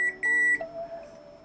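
A multimeter in diode/continuity mode gives a short electronic beep with a bright steady tone twice, then a softer sustained tone trails off while testing points on a Wii U disc drive; close and clear, no talking.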